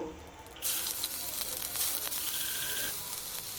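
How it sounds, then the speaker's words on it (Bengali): Tomato, dried red chilli, bay leaf and cumin hit hot oil for an eggplant and fish curry, breaking into a sudden loud, steady sizzle that continues with light crackles and spatters. "তেল গরম করে শুকনো লঙ্কা, তেজপাতা, জিরা,"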